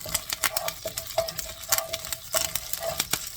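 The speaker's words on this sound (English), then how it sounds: "and we'll add some curry leaves. Now just stir it a bit." Curry leaves and green chilies being stirred in a pan: quick, close scraping and tapping of a spoon over a soft sizzle, in a brief busy burst.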